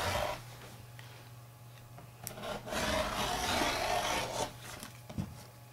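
Quilt fabric is cut around a template on a cutting table, giving quiet scraping and rubbing strokes that swell in the middle and then taper off, with a faint low hum underneath.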